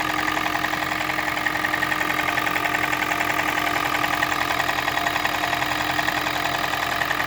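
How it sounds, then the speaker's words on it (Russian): A Toyota Prius with a 1NZ-FXE engine idles with a rapid, regular metallic knocking over a steady mechanical hum, close and loud throughout without talk. "И моторчик у нас вот так вот стучит."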